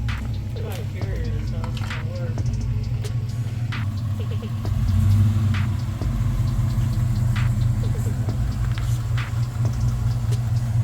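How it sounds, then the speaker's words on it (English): Chevy Silverado with a 5.3 V8, long tube headers and an exhaust leak idles and creeps close by, a steady low rumble that swells briefly midway, with people talking over it. "You got a bad exhaust leak."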